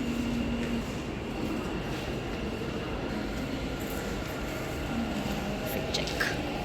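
A metro train arriving at a station, heard as a steady rumbling roar with faint squeals and rattles, fairly loud and continuous from start to finish.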